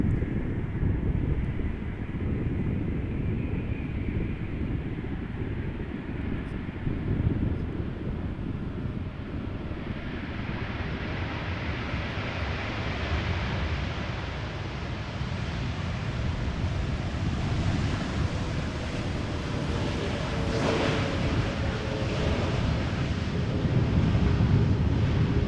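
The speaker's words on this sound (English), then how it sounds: "Wind is definitely picking up a little bit." Steady wind roars into the microphone at Amsterdam Schiphol Airport, a continuous broadband rush with a faint distant aircraft hum rising partway through.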